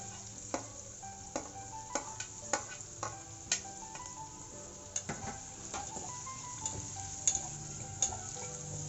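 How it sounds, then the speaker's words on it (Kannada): Sliced onions sizzle in oil in a pan while a spoon stirs them, giving a steady soft frying hiss broken by sharp clicks and scrapes of the utensil against the metal at irregular intervals. "ಈರುಳ್ಳಿ ಹಾಕ್ತಿದ್ದೀನಿ."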